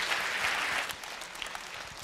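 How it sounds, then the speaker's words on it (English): A conference audience applauds after a console hacking talk, a quiet but full wash of clapping from a large hall that eases slightly midway, with a few isolated claps standing out as it trails. "Please give them a warm round of applause."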